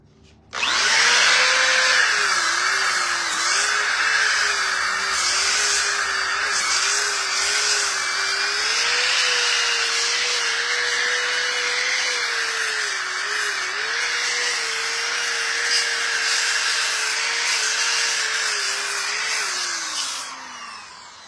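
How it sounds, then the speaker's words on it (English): Power sander roughing down a wooden build to knock off sharp edges, a loud continuous whirring drone with a steady pitch that starts abruptly, runs for about twenty seconds with slight wavering, then winds down. "we're just doing right now just a really rough sanding."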